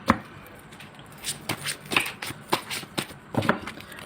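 Tarot cards shuffled by hand, a run of soft riffling flicks and taps at an uneven rhythm, close and fairly quiet with no voice.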